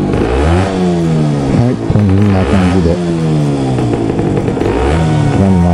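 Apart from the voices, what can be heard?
Honda NS-1 two-stroke motorcycle engine kick-started and revving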